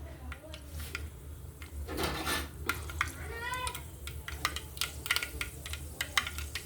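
Mustard seeds spluttering in a hot pan, scattered sharp pops and crackles coming faster toward the end over a low burner rumble, with occasional scraping of a utensil.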